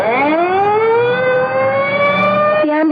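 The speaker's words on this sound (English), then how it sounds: "The ambulance is pulling away." A loud ambulance siren wails continuously as the ambulance pulls away, its pitch rising slowly and holding steady before dropping sharply at the end.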